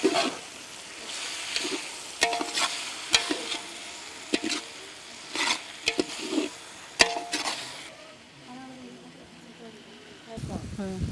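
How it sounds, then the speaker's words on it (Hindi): Onion, tomato, garlic and ginger fry in a pan for mutton at a Warli Adivasi wedding feast in Maharashtra. A steady sizzle runs under sharp clanks of stirring against the pan, with voices talking nearby. "प्याज टमाटर लहसुन और अदरक भुनने में थोड़ा समय लगेगा"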